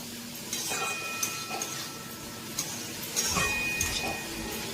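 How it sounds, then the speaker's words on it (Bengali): Masoor dal and egg curry being stirred in a pan on the stove, soft scraping and clinks of a spoon against the pan repeating every second or so over a faint sizzle. "এবার আরেকটু ভালো করে এটাকে নাড়িয়ে চাড়িয়ে নেব।"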